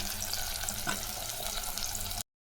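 Small shallots with mustard seeds sauté in hot oil for a quick sambar, a dense, continuous sizzle with faint crackles that stops abruptly near the end.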